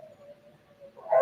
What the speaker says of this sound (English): I know you can hear the barking